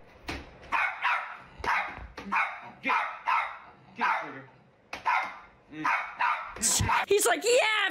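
A dog barks at a vacuum cleaner in a steady series of loud, close barks, about one every half second, ending in higher yelps and whines.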